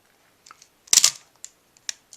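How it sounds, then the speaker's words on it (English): Film advance lever on a 35mm SLR camera being wound, a sharp close ratcheting click-burst followed by a few small mechanical ticks and clicks, crisp and isolated in a quiet room. "pull on your advance lever"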